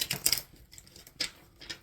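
Soft papery shuffling of tarot cards in short irregular bursts, a few brisk riffles with quiet gaps between, close and fairly faint.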